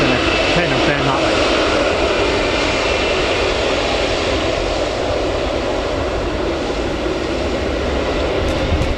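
An airplane turning at Newcastle Airport gives off a loud, constant engine roar that stays even and unbroken from start to finish.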